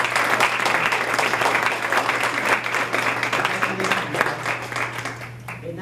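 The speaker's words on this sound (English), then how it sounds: "So let's applaud for these guys" Steady audience applause at a youth leadership awards banquet honoring graduates, a full round of clapping with light crowd murmur that tapers off at the end.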